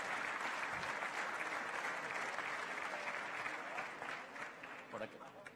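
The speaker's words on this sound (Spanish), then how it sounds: "Otro fuerte aplauso, por favor, para nuestros panelistas, a nuestros alcaldes." An audience at a national gathering of citizen governments claps loudly for panelists and mayors, dense steady applause that thins into scattered claps near the end.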